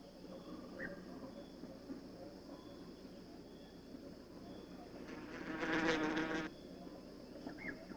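Small wasps buzz around their paper nests hanging from stems or rootlets, a faint, steady insect drone with a louder, closer buzz swelling briefly near the end.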